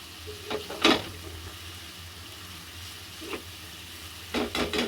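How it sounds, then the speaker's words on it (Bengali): Hilsa egg mixed with fried onions sizzles steadily in hot oil in a pan, with a few sharp bursts of clatter as the egg is turned over, no voices. "এখন তেল বাইরিতে আস্তে আস্তে আস্তে আমি এটা উল্টাই দিই ডিমটা"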